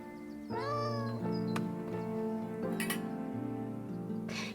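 Hungry cats meowing close by, a couple of drawn-out meows and some clinks of dishes or cans over a steady background hum.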